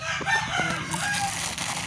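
A rooster crows once nearby, a strained drawn-out call over light background noise, with no speech.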